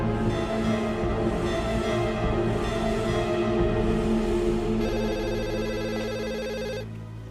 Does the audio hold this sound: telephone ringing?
yes